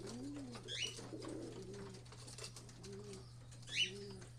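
Racing pigeons, a mix of old and young birds, cooing softly in a loft, low repeated coos alongside a few sharper chirps and a brief flutter, fairly quiet with a steady hum beneath and no talking.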